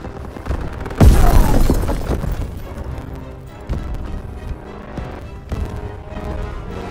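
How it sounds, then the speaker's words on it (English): A grenade blows up in Call of Duty WWII with a sudden, loud, crackling boom that rumbles away over a few seconds, followed by scattered in-game battle noise. "busted out a grenade!"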